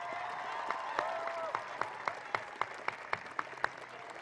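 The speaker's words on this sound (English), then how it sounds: "Please give them all a round of applause." A graduation ceremony crowd claps steadily, the dense applause topped by sharp individual claps standing out near the microphone, while a voice is briefly heard at the start.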